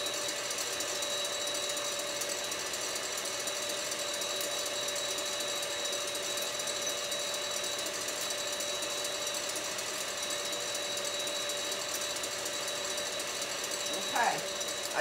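An electric mixer whips egg whites until frothy for a lemon meringue pie, giving a steady, even motor whir that runs throughout, with a brief louder knock near the end.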